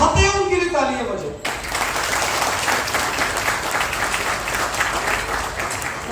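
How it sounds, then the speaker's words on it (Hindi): An audience at a health talk breaks into loud, sustained applause after a spoken prompt, the clapping filling the hall and continuing steadily to the end. "तो जो लोग चाहते हैं उनके लिए तालियां बजे"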